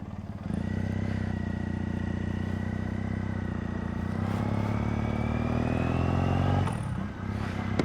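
A 2009 Triumph Bonneville T100 motorcycle, the first fuel-injected year, rumbles steadily and loudly nearby, its engine note rising slightly before a brief dip near the end and a quick recovery.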